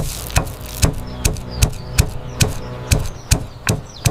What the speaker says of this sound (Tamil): சுக்கு மற்றும் மல்லிய உரலில் போட்டு நைஸாக இடித்துக் கொள்ளுங்கள்.